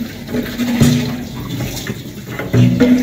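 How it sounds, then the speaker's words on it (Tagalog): Tap water runs steadily while a pet's drinking bowl is rinsed and cleaned, a close, continuous splashing flow with brief louder surges as the bowl shifts under the stream. "Linisan ko tong tubigan ni Papa."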